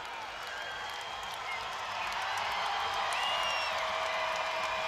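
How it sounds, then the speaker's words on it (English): A record-setting college wrestling crowd at a Big 12 match roars and applauds continuously, a dense wash of cheering and clapping that builds slightly and holds steady, heard from within the arena. "This record-setting crowd letting Joey Novak hear it."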